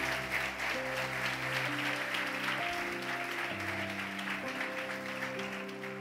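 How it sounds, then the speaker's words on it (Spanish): A church congregation applauding loudly and continuously, a dense steady roar of clapping over sustained organ or keyboard chords. "¿Cuántos pueden dar un aplauso fuerte al Señor?"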